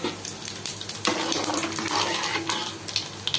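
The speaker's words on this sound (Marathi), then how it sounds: "मोहरी चांगली तळतळली" Mustard seeds and fenugreek seeds frying in hot oil for a ginger-garlic mango pickle, giving a steady close sizzle broken by sharp crackles and pops, with no voices.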